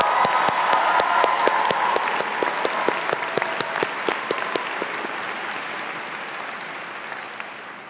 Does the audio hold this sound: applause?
yes